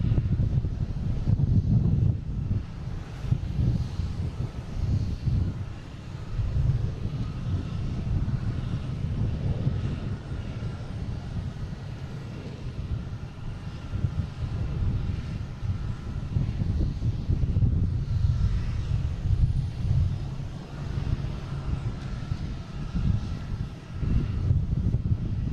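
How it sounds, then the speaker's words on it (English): A JetBlue jet taking off at Boston Logan International Airport produces a steady, loud low engine roar that holds throughout, with wind buffeting the microphone. "So there's that JetBlue taking off"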